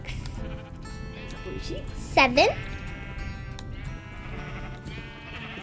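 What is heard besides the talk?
sheep bleating in a video game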